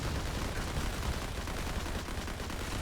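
Rapid gunfire from the Bramson rifle in the mobile shooter Modern Combat 5, a steady dense crackle of shots with no gaps, moderately loud throughout and without any voice.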